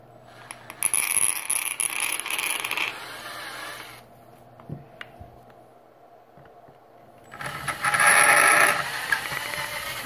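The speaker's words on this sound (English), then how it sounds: "you hear that sound it's making? It's because of the material. It's that type of resin." A drill bit bores slowly through resin on a prototype Batman figure, giving a steady gritty grinding that drops away into near quiet for a few seconds, then comes back harsher and louder.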